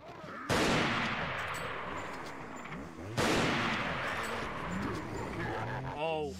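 Two loud bursts of rapid gunfire from a weapon in the video game Resident Evil 4, each erupting suddenly and rattling on for a few seconds, with a voice speaking briefly near the end.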